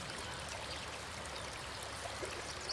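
River water flows steadily past plants rooted in the riverbed, a soft continuous rushing and trickling that stays even and fairly faint, with no voices.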